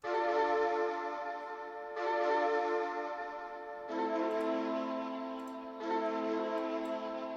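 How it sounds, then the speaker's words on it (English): A breathy synthesized shakuhachi flute preset in Expand plays four slow sustained notes or chords in succession, each changing pitch, with no talking. "This is the slow shakuhachi preset in Expand."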